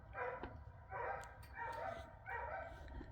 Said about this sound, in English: Bela starts howling.